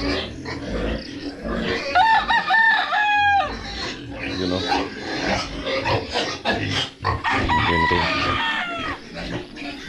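A rooster crows loudly nearby while native hens cluck and squawk around it on a farm, with pigs grunting and people talking in the background.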